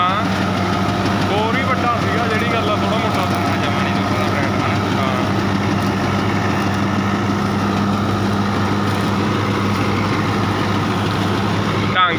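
An HMT 5911 tractor engine runs steadily at 1600 RPM while pulling a 62-inch reaper. It gives a loud, constant diesel drone with an unbroken hum from start to finish.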